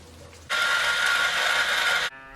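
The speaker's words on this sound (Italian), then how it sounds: "terminiamo di avvitare il battipenna e gli accessori rimanenti" A power screwdriver drives a screw into the pickguard of a Harley Benton Stratocaster-style kit guitar, giving a steady, close, high-pitched mechanical whir that lasts about a second and a half and then stops abruptly.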